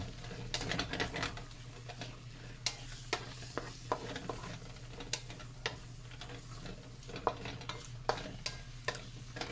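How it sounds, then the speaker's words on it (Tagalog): Buttered shrimp and ketchup are stirred in a hot pan, a soft sizzle under repeated scraping and clacking strokes of the utensil against the pan, close and quiet. "Yan, halu-haluin lang po natin."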